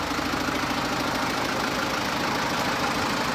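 A 1997 Case 580L backhoe with a Cummins diesel idles steadily, a dense, loud, even rumble with a faint knocking texture throughout and no voices.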